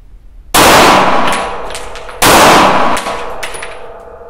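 A pistol fires two loud, close shots about two seconds apart, each a sharp crack trailing into a long ringing decay, with faint metallic clinks at the end as the magazine runs empty.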